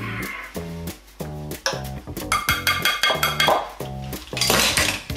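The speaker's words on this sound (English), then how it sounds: "Put that in the sink." Dishes, pots and cutlery clatter and clink into a kitchen sink during cookie baking, in a busy run of sharp, close knocks and rattles of varying loudness.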